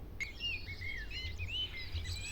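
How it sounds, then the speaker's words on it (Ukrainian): A common starling sings a rapid, varied warble of whistles, clicks and chirps, fairly faint against a low rumbling background. "Це пісня шпака."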